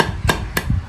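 Two sharp, quick hammer taps on a metal watch band pin, close and clear, with a short pause between them.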